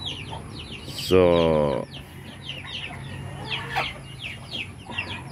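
Native chickens cluck and chatter nearby in a backyard farm, with a rooster letting out a short crow early on; a voice speaks briefly.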